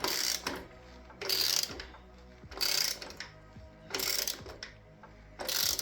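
A ratchet wrench tightens the axle bolt on a Yamaha R7 motorcycle to 40 Nm, giving five evenly spaced bursts of rapid clicking, close and clear with no voices.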